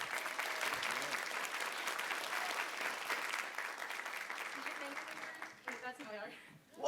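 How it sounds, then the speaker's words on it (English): An art panel audience claps in a dense, sustained burst that fades toward the end, when voices and cheers take over. "Round of applause."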